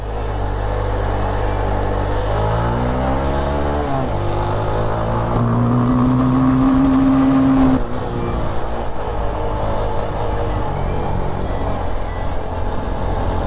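A vehicle engine drones steadily in second gear on the road toward Keokeradong, loud and close, with the pitch rising and shifting as it works uphill.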